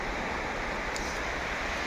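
Sea waves breaking on the Mumbai shore, a steady broadband wash of surf with wind noise, close and continuous, no voices.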